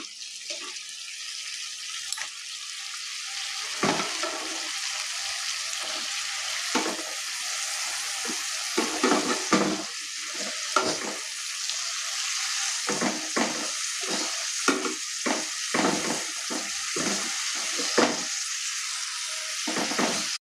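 Cut winter vegetables stir-fry in a spice paste with a steady, loud sizzle throughout, broken by repeated scraping strokes of a spatula against the pan.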